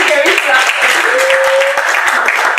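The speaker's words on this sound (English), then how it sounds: "Can you clap?" Audience applause after a request to clap on a children's career-orientation show, a steady dense patter lasting the whole stretch, with some voices calling out over it.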